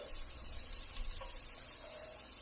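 Garlic sizzles as it goes into a pot with tender cooked celery for egg drop soup, a steady close hiss of frying oil with faint stirring, no voices.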